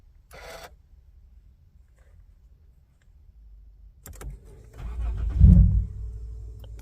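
A brief mechanical whir, a quiet pause, then a Lexus IS 250 with a carbon intake cold-starts, cranking and catching, rising to a loud rumbling idle close by.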